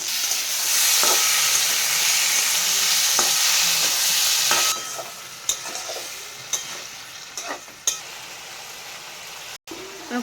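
Boiled potatoes go into a spice masala that has released its oil, bursting into a loud steady sizzle that eases off halfway, followed by several sharp spoon scrapes and taps against the pan.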